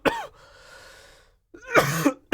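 Two bursts of harsh, wet coughing after a breath, loud and close, with a wheezy inhale between fits and no talk.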